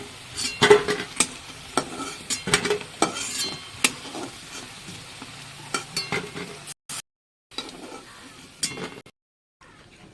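Potatoes frying in oil, a close sizzle punctuated by rapid clinking and scraping of a utensil stirring the pan, with short silent breaks toward the end.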